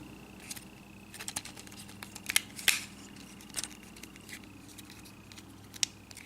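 Plastic parts of a Transformers POTP Dinobot Snarl toy fold into place with a scattered series of sharp little clicks and snaps, quiet and close, with a couple of louder clacks midway.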